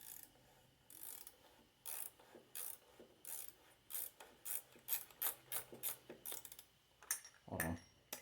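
A ratchet tightens bolts on a wrecked John Deere LT155 riding mower, giving a series of close, sharp clicking bursts in a steady back-and-forth rhythm, ending in a heavier thunk, with no talk.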